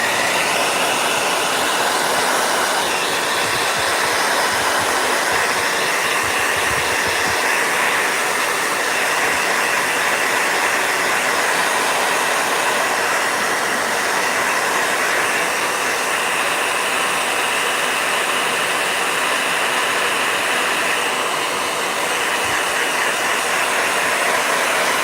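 A blow dryer runs continuously for the whole stretch, a loud, steady broadband whoosh with a slight wavering in tone and no voices.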